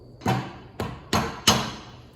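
Four sharp hammer taps, close and alone, land at uneven intervals as a part is driven over the bevelled end of a Bobcat S185 lift cylinder rod, each strike ringing briefly before fading.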